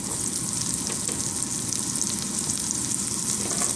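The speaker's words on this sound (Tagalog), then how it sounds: "lalagyan na natin siya ng sibuyas at bawang" Onion and garlic sautéing in a pan after browning ground beef, giving a loud, dense, continuous sizzle with light stirring, close and without voices.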